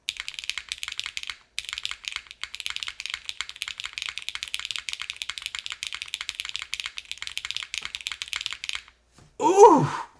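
Steady bursts of typing on a Suisei mechanical keyboard fitted with Obscura switches, crisp close clacks in a quick rhythm with a short pause, followed by a brief murmured voice at the end.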